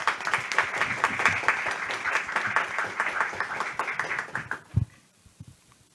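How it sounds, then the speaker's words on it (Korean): A seated audience at a university business school event gives sustained applause, a steady roar of many clapping hands that fades out abruptly with a single thump and near silence. "큰 박수로 맞이해 주시기 바랍니다"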